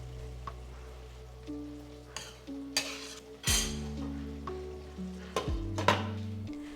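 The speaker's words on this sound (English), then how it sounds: "I added them to the gravy, sprinkled some garam masala and let them simmer for a while." Fried eggplant pieces simmer in a masala gravy sprinkled with garam masala, giving a soft, continuous bubbling sizzle with occasional utensil clinks, set under steady background music.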